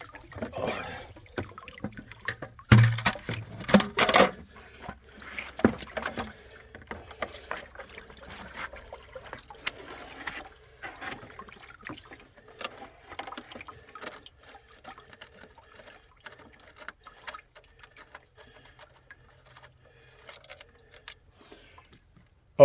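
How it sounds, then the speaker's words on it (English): Parts are washed out in a bucket of water, with intermittent sloshing, trickling and splashing bursts that are loudest early on and then settle into quieter, scattered dribbles and small clinks. "I'm going to do the wash out in the bucket that I cleaned it out of"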